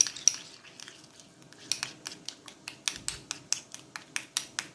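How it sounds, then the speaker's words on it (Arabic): Ghee and mustard being stirred together with a utensil in a metal pan for a lamb shoulder dish: a quiet scrape, then a series of evenly spaced, sharp metallic clinks that speed into a steady rhythm, close and faint. "وهنايا عندي السمن وعندي لا موطارد، غنخلطهم بجوج هكا"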